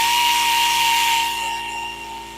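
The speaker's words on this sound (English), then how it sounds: "the sander wants to bounce a little bit, but sometimes you get these little streaks." A power sander whirs loudly against wood spinning on a lathe, a steady high whine that gradually fades as the tool winds down or pulls away, with no talk.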